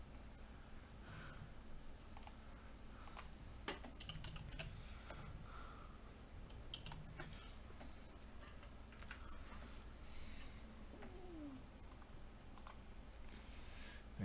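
Keys clack on a custom clicky carbon fiber TKL mechanical keyboard, with scattered irregular strikes in uneven bursts over a steady background hiss, faint but close.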